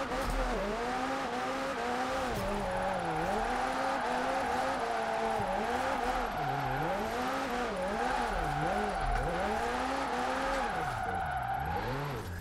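A Mark IV Jetta drifts in Forza Horizon 4, its engine droning steadily and rising and falling in pitch as it revs through turns, with tire squeal over the top, loud and continuous throughout.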